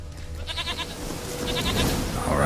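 A goat bleats in short pulsing bursts, twice, fairly close, in The Witcher 3: Wild Hunt, over steady outdoor game ambience.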